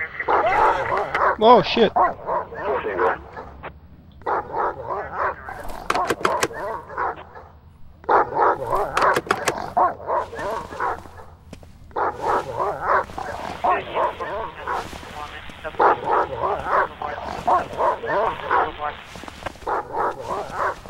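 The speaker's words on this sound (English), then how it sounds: "Poor dog." A dog in the video game Silent Hill: Downpour barks, yips and whimpers in repeated bursts over about twenty seconds, loud and close, with short pauses between runs and a brief spoken exclamation near the middle.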